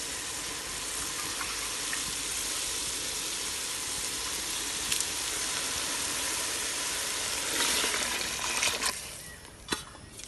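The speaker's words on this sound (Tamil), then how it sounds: "தண்ணி அளவாக ஊற்றணுமா?" Water is poured into a hot pan of wheat rava upma, giving a steady close hiss and trickling sizzle that lasts several seconds, then fades into lighter sizzling with a few sharp clinks near the end.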